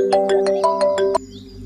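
Phone ringing on a line while a conference call is being connected, a quick series of six bright electronic tones that stops abruptly, clear and alone.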